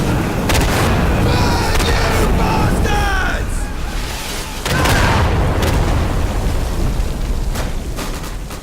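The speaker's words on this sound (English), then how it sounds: "the game features a flamethrower" A flamethrower roars in the World War II shooter Day of Infamy, a loud, continuous rushing burn with heavy booming blasts and bursts of gunfire, dense and close throughout.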